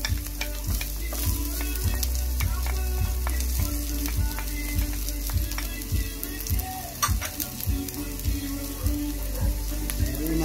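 Garlic and onion sauté in a pan with a steady, close, loud sizzle, broken by regular scraping strokes of a stirring utensil throughout.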